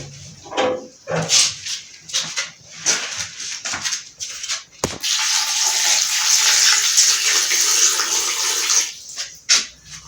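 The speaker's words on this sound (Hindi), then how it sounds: "हम इसमें पानी ऐड करेंगे, हस्बे ज़रूरत ऐड करेंगे" Water poured into a mutton karahi, first sporadic clatter and splashes, then a steady gushing pour lasting several seconds before tapering off, close and without speech.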